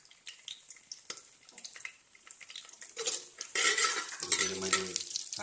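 Chillies and onions frying in a pan for chicken biryani, with a steady sizzle, then scraping and stirring that grows louder as a utensil clinks against the metal.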